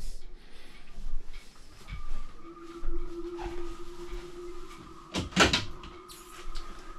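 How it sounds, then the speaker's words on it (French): A cabin door on a sailboat at a boat show opens and closes, giving soft thumps and clicks and a brief squeak and rattle amid quiet ambience. "Des portes comme ça sur le voilier, on n'en trouve pas"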